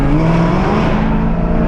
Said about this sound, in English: Like, it's a full-on race car, bro.